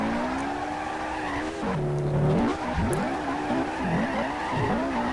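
A Ford Mustang Hoonigan drifts on a small circuit, its engine rising and falling through revs with long tyre squeal and skidding, loud and continuous with shifts in pitch as the car slides.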